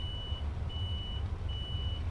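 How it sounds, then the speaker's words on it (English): A DAF XG truck's reverse beeper in Euro Truck Simulator 2 sounds a steady series of long, evenly spaced beeps over a low, constant engine rumble, with no talking. "I don't know if that reverse beeper is the actual truck's reverse beeper or if that's from the sound fixes pack."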